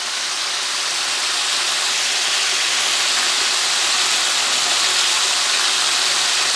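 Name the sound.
chicken wings deep frying in oil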